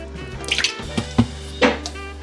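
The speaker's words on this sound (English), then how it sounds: "Pour your V8 in" V8 vegetable juice poured into a pot of mixed vegetables for soup, a few soft splashy glugs and drips close by, with brief pauses between pours.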